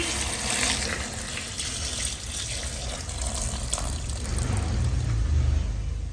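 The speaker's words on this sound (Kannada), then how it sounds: "ಅಕ್ಕಿ ಉದ್ದಿನ ಬೇಳೆ ಎಲ್ಲ ತೊಳೆದಂಥ ನೀರು ಅದನ್ನು ಕೂಡ ಇದಕ್ಕೆ ಸೇರಿಸ್ಕೊಳ್ತಾ ಇದ್ದೀನಿ" Water left over from washing rice and lentils is poured out in a steady, continuous gush, close and fairly quiet, with no talking.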